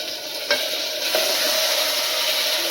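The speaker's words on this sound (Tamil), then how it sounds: "தக்காளியும் சேர்த்து நம்ம வந்து வதங்க விடலாம்." Chopped tomatoes sauté in a hot pan for brinji rice, giving a steady, close sizzle with a couple of soft spatula scrapes as they are stirred.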